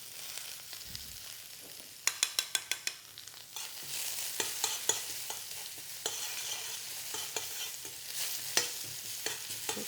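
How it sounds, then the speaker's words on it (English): Ginger, garlic and spring onion stir-frying in a smoking-hot wok, a steady loud sizzle broken by a quick run of sharp metallic tosses and scrapes, then more intermittent clatter over continuous frying, with no talking. "Once your pan is smoking hot, ginger, garlic, spring onion, and go straight into there."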